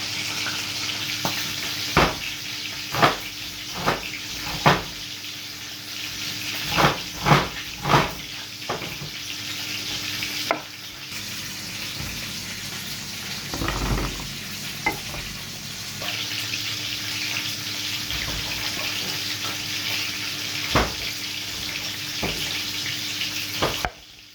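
Fish frying in a pan gives a steady hiss of sizzling oil, broken by repeated sharp spatters and crackles, with some stirring and water-like splashes midway.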